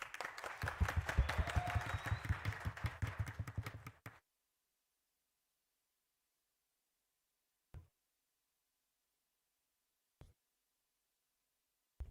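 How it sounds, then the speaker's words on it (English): An audience at a tertiary institution debating challenge claps for the Prime Minister speaker in a dense burst of applause lasting about four seconds, then silence broken by a few isolated soft knocks. "Round of applause for the Prime Minister, please."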